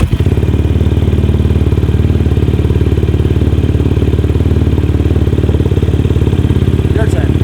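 A dirt bike engine runs at a steady loud idle, its low rapid putter unbroken throughout, with a faint click near the end.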